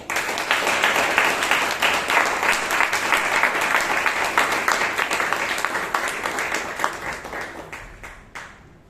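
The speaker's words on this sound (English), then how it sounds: "With a thundering round of applause, please welcome Toastmaster Shelma Furtal." A Toastmasters meeting audience in Bangalore claps to welcome a speaker, a full, sustained round of applause that stays strong for several seconds, then thins out and fades to a few scattered claps near the end.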